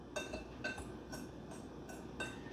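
Chocolate mayonnaise cake dry ingredients (flour, cocoa, leavening) being stirred in a bowl, a quiet rhythmic scraping with light clinks of the utensil against the bowl roughly every half second, fairly faint and with no talking.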